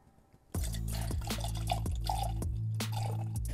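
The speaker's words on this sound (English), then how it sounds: "now we're gonna put in our scotch, and I'm gonna put in the first 300" Scotch whiskey poured from a bottle into a batch of Manhattan cocktails, a steady close liquid stream with glugging bubbles running for about three seconds after a short quiet start.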